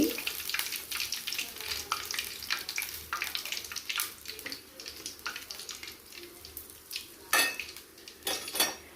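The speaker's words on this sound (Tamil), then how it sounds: "நல்லா மொறுமொறுன்னு ஆயிடுச்சு காடை ஃப்ரை." Quail pieces fry crisp in a pan, giving an irregular oily crackle mixed with clinks and scrapes of a utensil against the pan, fairly close and moderately loud, with no talk.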